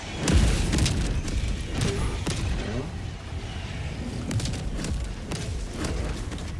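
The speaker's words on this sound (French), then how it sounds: "Je vais envoyer une bombe" Bomb explosion in the video game Helldivers 2, a heavy low boom at the start followed by rumbling thuds and further bursts of impacts throughout, with a dense continuous roar underneath.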